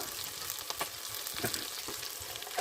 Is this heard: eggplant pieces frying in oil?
yes